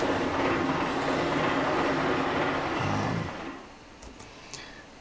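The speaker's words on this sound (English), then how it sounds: "There's the sound of the train." Train passing a Japanese countryside station, a steady broad rumble and rattle that stays loud for about three seconds, then drops away to quieter ambience with faint high tones.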